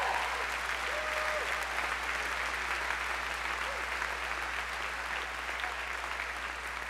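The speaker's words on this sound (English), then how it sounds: "Would you join me in some big applause?" A large crowd applauding at a university commencement ceremony, a steady, even wash of clapping that sounds somewhat distant and carries on throughout.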